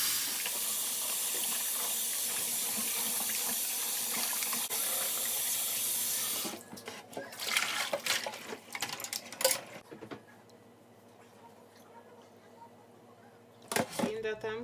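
Tap water runs in a steady loud hiss over chicken pieces being washed in a sink after soaking in lime water, then stops, leaving splashes, handling clatter and a brief final burst of running water.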